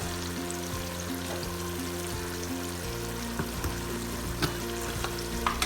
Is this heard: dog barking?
no